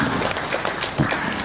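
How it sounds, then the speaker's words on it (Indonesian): An audience applauds at a religious talk in Semarang, a brief, dense wash of clapping from a crowd, steady and moderately loud throughout. "Seneng aku nek terima tepuk tangan kabeh ya iso"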